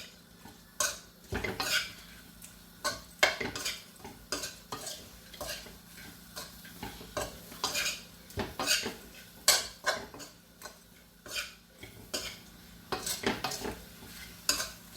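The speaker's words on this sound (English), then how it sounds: "So all you have to do is just continue stirring for a bit" Prawns stirred with a utensil in a hot pot, irregular scraping clinks and knocks against the metal over a faint sizzle, close and fairly quiet, with no talk.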